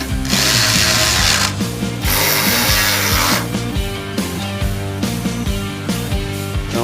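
Bolts being loosened while a car body is fitted in a workshop. A loud power tool or ratchet makes rapid, steady mechanical whirring and clicking, with sustained bursts and a few short pauses.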